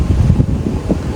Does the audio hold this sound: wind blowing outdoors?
yes